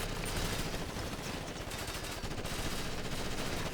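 Gunfire from Ghost Recon Advanced Warfighter comes as a faint, steady stream of rapid shots blended into dense background noise throughout.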